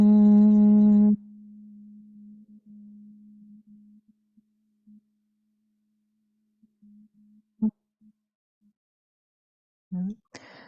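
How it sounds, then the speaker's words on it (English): Humming bee breath during a yoga session for Parkinson's: a loud, steady hummed tone at the start gives way to a quieter sustained hum that breaks up into scattered short hums, with a few faint vocal sounds near the end. "we're going to end today's session with 6 rounds of that humming bee breath"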